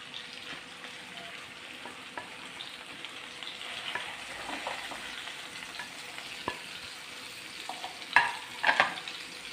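Mackerel frying in oil in a pan, a steady close sizzle with scattered scraping and stirring clicks, a few sharper spatters near the end.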